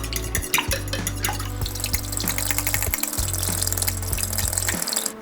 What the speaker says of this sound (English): now what I'm going to do is whisk together all these ingredients